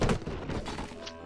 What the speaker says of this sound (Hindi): फिर भी धमाका पड़ रहा है इन लोगों पे